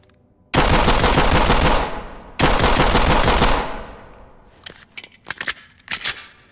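Gunfire from a G19 pistol in the tactical shooter Ready or Not, two long dense bursts of loud, rapid shots, then a few scattered sharper single reports as things quiet down.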